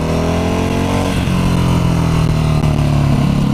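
Ducati Hyper motorcycle engine pulling steadily under throttle while riding, a loud continuous drone with the pitch climbing as it accelerates, close to the listener with no talk.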